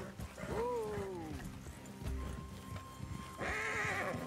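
Horses in the Red Dead Redemption 2 video game whinny loudly near the start, then hooves clip-clop steadily, with a second neigh toward the end over game ambience.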